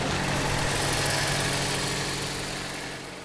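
A Fiat Millecento with its 1100 cc engine idling with the emergency brake on, a steady low rumble held close and constant, easing slightly toward the end, with no voices.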